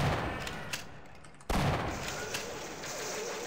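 A shotgun fires in Half-Life, a sharp loud blast at about the midpoint that cuts through ongoing game noise and combat sounds.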